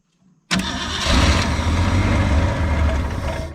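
A 1964 Ford Fairlane 500 hardtop that has run out of gas cranks loudly and close up, its starter grinding and the engine churning steadily for about three seconds without catching, after a short quiet lead-in.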